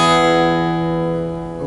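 A single acoustic guitar strum, capo on and tuned to drop D, from a song intro rings out clearly and decays slowly on its own.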